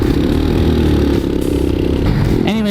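A Lifan KP Mini motorcycle engine drones loud and steady while riding, with rumbling low harmonics and clattering noise. Near the end a higher revving tone rises sharply.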